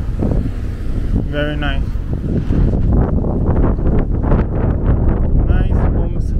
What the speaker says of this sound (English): Very windy. The wind is very relaxing here.